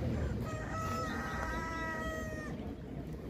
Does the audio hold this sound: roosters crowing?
yes